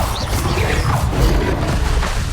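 A Bombarda spell blast from the Hogwarts Legacy video game, a loud, dense burst of crashing, rumbling noise that fills the whole moment with heavy low-end boom and debris-like crackle.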